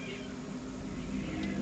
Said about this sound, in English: Now I'm trying to figure out if that sound of cats fighting is in the game.